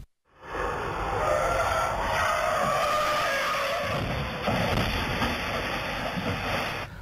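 A pickup truck's brakes and tires grind against the road in a long, loud, continuous skid at night, heading toward a hospital wall, with no voices present.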